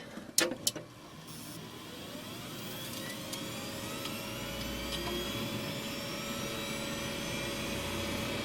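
An old server spins up. Two sharp clicks open the sound, then a steady fan whoosh and motor whine build and hold, fairly loud and continuous, with no voices.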